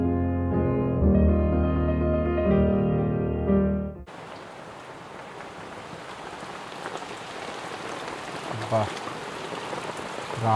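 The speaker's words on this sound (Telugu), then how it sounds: "కంటిన్యూస్ వర్షం పడుతుంది కదా నైట్ నుంచి." Steady rain falling at Manyam Resort in Maredumilli, where it has rained since the night before. After about four seconds of tonal, music-like sound, a close, even patter of raindrops takes over and continues to the end.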